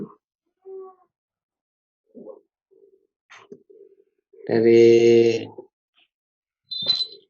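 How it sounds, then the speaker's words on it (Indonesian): A cat on a table gives a loud, clear meow in the middle of the clip and a shorter one near the end, with scattered soft sounds before it in a quiet room. "ini ada kucing naik meja ini"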